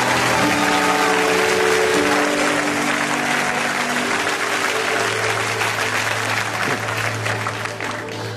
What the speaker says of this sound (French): Est-ce que tu peux acclamer, acclamer, acclamer la présence de Dieu?